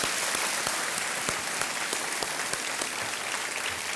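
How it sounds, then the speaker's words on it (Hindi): Studio audience applause on the TV quiz show Kaun Banega Crorepati: a steady, dense wash of many hands clapping, continuous and even throughout with no talk over it. "तालियों के साथ इनका अभिनंदन करते हैं।"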